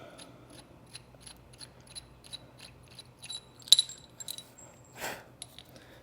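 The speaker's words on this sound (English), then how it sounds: "Now we can back off the bolt" A wrench backing off an anchor bolt set in a garage floor, giving a series of faint ratcheting clicks and metallic clinks at close range, with no talking.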